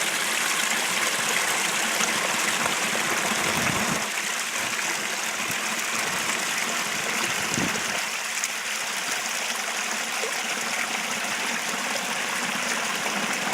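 Steady wash of creek water flowing over rocks in a cold, icy wilderness camp, continuous and fairly close, with a faint breeze and no talk.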